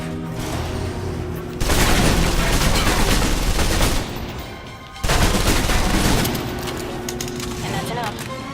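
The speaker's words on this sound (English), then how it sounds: "Now for your submachine guns." Submachine gun fire in the video game Alpha Protocol, loud sustained automatic bursts in two long stretches separated by a brief lull, with a spoken voice around the shooting.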